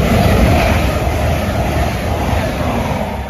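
A Lumo passenger train from London King's Cross to Edinburgh Waverley passes through Cramlington station with a steady, loud broadband rumble and rush of wheels on rails, sustained throughout with no pause.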